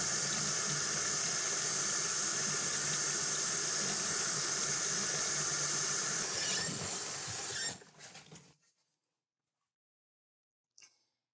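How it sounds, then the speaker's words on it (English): Warm water runs from a faucet into a basin, a steady broad hiss of flowing water lasting several seconds before the tap shuts off, followed by near silence and a brief faint clink. "we'll fill the basin about 1/4 of the way full"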